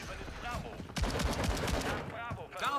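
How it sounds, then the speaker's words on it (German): Rapid automatic gunfire rattles in Call of Duty: Modern Warfare 3, a dense burst of quick repeated shots for about a second amid continuous battle noise, with a voice speaking over it. "Stehe unter direktem Beschuss."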